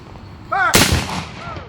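Front rank of a drilled infantry line fires a single sharp gun volley, one loud crack with a short rolling tail, preceded by a brief shouted command.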